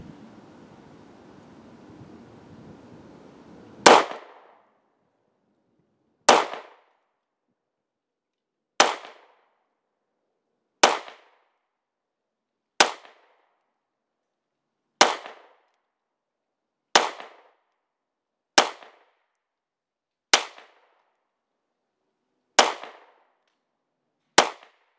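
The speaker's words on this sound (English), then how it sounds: "We'll shoot 12 more and then we'll call it a day." A Sig P226R pistol fires double-action rounds at a shooting range, twelve sharp, loud reports spaced about two seconds apart, each cracking cleanly against near silence after some faint wind at the start.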